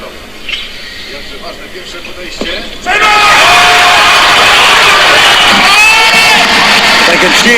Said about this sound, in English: They can cheer now, they almost cheered a little too early.